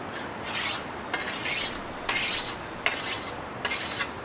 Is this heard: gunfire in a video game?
no